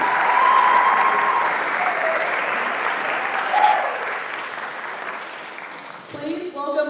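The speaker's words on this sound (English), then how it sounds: "Let's give them a round of applause." Round of applause at a college fraternity and sorority awards ceremony, a crowd clapping steadily and loudly before tapering off, with a speaker's voice starting up near the end.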